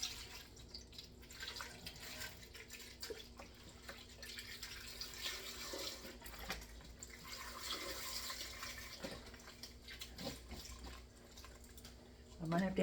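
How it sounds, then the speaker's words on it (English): Chicken broth poured from a box over a pot full of potatoes, a steady watery splashing and trickling that runs throughout, with a person talking over it. "I'm going to cover them with a box of chicken broth"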